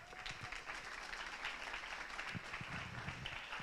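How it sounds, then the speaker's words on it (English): Steady applause from an audience at a community celebration and pitch night fills the space, a dense wash of clapping that holds at an even level throughout. "give her a round of applause and welcome her to the stage."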